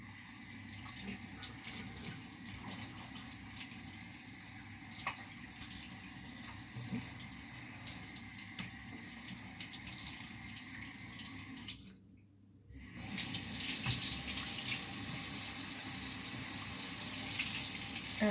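Water runs steadily from a sink tap during a nighttime face-washing routine, a continuous close splashing rush that briefly drops out near the end before resuming louder and brighter.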